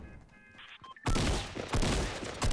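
Tactical shotgun fire in the video game Fortnite erupts suddenly after quiet game sounds, a burst of loud, booming blasts in quick succession, with no talk.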